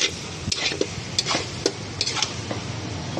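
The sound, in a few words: stirring potato curry in a pan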